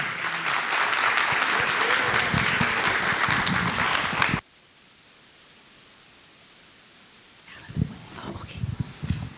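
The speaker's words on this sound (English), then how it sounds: "Let's give our students a round of applause" Loud applause from a school advisory board audience honoring creative arts students lasts about four seconds, then cuts abruptly to quiet room hiss before a few scattered claps and soft sounds return.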